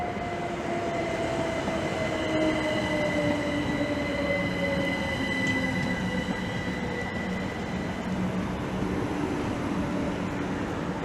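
A Great Western Railway passenger train rumbles steadily through Maidenhead station with long high-pitched wheel squeals sliding downward, loud and close, with occasional sharp clicks over the continuous roar.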